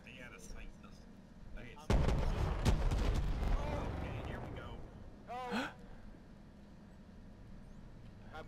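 A Bradley tank fires on the player in a video game, a loud heavy roar of cannon fire erupting and rumbling for a few seconds, with voices and breathy exclamations around it.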